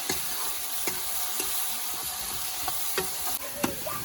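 Chopped onions and tomato sizzle in a hot pan while being stirred, a steady crackling fry punctuated by sharp scraping clicks of the utensil.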